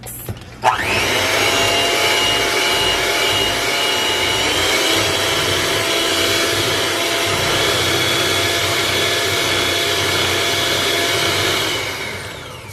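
Electric hand mixer beating cake batter with milk and eggs in a bowl, a steady loud whirring drone that starts abruptly and runs continuously for several seconds.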